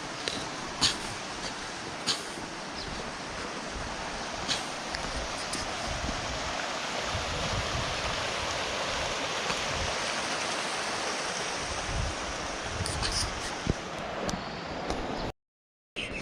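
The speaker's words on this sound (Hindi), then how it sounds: "ये सामने एक वाटर स्प्रिंग है। आपको एक बार पास से भी दिखा देता हूँ।" A mountain water spring on a trail near Triund above Dharamshala, flowing in a steady, broad rush of water close by, constant throughout, briefly cutting out near the end, with no voices.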